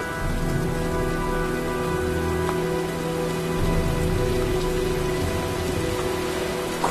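Steady heavy rain falls from a storm in the game Heavy Rain, a dense continuous hiss with faint rumbling underneath, unbroken throughout with no voices.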